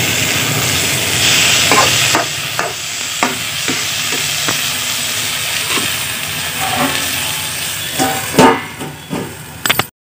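Potato, soybean and tomato kalonji frying and being stirred in a pan over a clay chulha stove on low heat: a constant close sizzle broken by scraping stirs and a clatter near the end.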